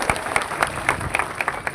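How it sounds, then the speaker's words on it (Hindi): An audience at a political rally outdoors claps in a short burst of loose, uneven claps with a crowd murmur beneath. "गर्व है हमारी सेना पे, गर्व है, ताली बजाओ सेना के।"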